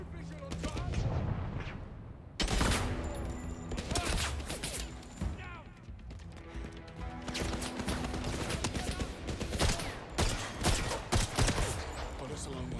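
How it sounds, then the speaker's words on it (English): Gunfire in the video game 007 First Light, with repeated sharp shots and heavy bursts over a constant dense backdrop of game action and loud effects that runs across the whole stretch. "this is one of the better guns I've picked up"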